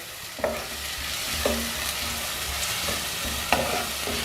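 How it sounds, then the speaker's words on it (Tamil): Sizzling masala frying in a pan with a steady hiss, punctuated by occasional scraping stirs of a spatula, close up and without any talking. "நல்லா பச்சை வாசனை போகிற வரைக்கும் வதக்கணுங்க."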